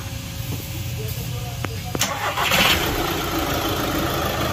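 A Volkswagen Ameo automatic's engine restarts after a gearbox issue, with a few sharp clicks, then a brief crank and catch into a steady, fairly loud running hum that holds to the end.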